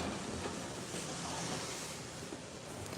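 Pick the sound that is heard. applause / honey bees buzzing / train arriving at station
train arriving at station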